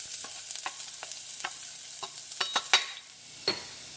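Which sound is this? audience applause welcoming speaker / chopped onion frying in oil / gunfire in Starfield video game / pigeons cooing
chopped onion frying in oil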